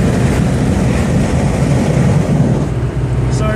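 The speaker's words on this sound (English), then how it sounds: "Sorry for the additional wind noise, but that's about 80 miles an hour" Loud, steady roar of wind and road noise inside a 1987 Buick Grand National at about 80 miles an hour, a broad rushing rumble that never lets up.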